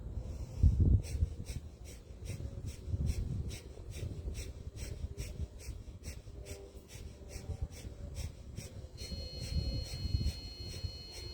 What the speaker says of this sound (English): take a deep breath in, and begin breath of fire